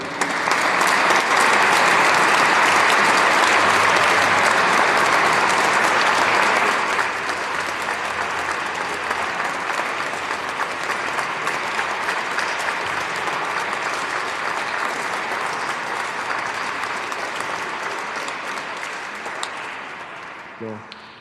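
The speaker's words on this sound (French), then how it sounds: "On va applaudir nos jubilaires." Sustained applause from a church congregation honoring jubilarians at an anniversary celebration, loud and dense for about seven seconds, then continuing slightly softer and gradually fading toward the end.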